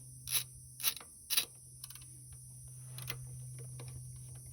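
A ratchet turns a 5/8 socket on an axle bolt of a small Coleman: three quick bursts of clicking near the start, then a few fainter ticks, close and quiet over a low steady hum.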